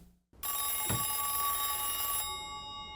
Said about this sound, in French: Le téléphone, il faut qu'il sonne.